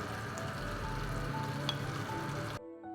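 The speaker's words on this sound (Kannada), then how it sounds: "ಚೆನ್ನಾಗಿ ಕುದಿ ಬರ್ತಾ ಇದೆ" Masala gravy for restaurant-style paneer butter masala boils in a pan on the stove, giving a faint, steady bubbling hiss with a low hum that cuts off abruptly near the end.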